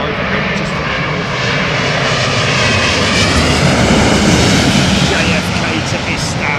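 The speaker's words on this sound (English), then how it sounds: "Daryl, Turkish 777, just about to go over here, just to the north" A Turkish Airlines Boeing 777 jet passes overhead near London Heathrow on a flight from JFK to Istanbul, giving a loud, broad, continuous engine roar that swells slightly as it goes by.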